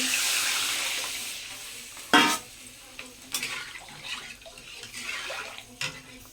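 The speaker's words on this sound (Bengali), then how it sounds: "আমি দিয়ে দিলাম জল" Water poured into a pan of simmering crab curry, a brief splashing burst over a low background sizzle, followed by faint stirring and clinks of cookware.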